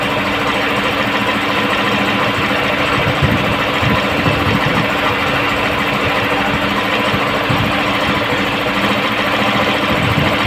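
A Honda CG125 motorbike engine idles steadily while its carburetor mixture is tightened, a continuous loud, close chugging hum with a slight uneven knock throughout.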